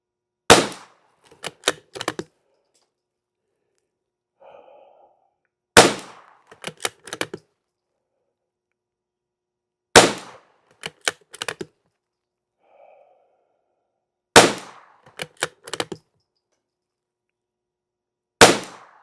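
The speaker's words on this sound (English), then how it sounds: "Let's get our first 5-round group down there." Rifle firing CCI Standard Velocity rimfire ammunition on a range in five-round groups: single sharp shots about every four seconds, each followed by clicking bolt or action handling noises, with brief faint murmurs between.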